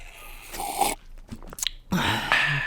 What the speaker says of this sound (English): I need to take a quick sip of this nice water